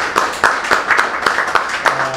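A small audience at a book launch in a bookshop gives a welcoming round of applause, with sparse, uneven hand claps close by and a voice briefly heard at the end.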